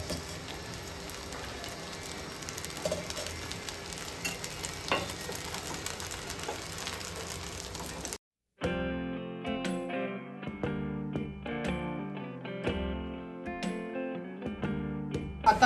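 A poha dosa fries in oil in a pan, giving a steady, even sizzle for about eight seconds before it cuts off and music takes over.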